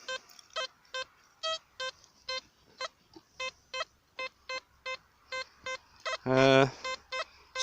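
A metal detector beeps in a quick regular series of short electronic tones while searching for medieval coins, with one longer, louder warbling signal near the end.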